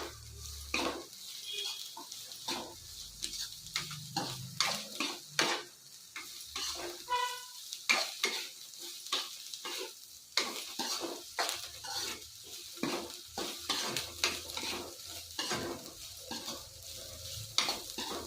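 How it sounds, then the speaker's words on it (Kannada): Sprouted fenugreek seeds fry in oil in a pan, with a steady sizzle running under repeated scraping strokes of a spatula stirring the mix, close and fairly loud throughout. "ಈಗ ಇದನ್ನ ಎಣ್ಣೆಯಲ್ಲೇ ಫ್ರೈ ಮಾಡೋಣ ಚೆನ್ನಾಗಿ"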